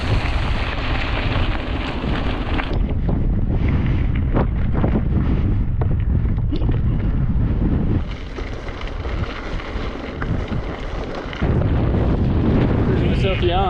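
Strong wind buffets the microphone on a bike ride through the Scottish Highlands, a loud, continuous roar that dips briefly partway through, with talk faint beneath it.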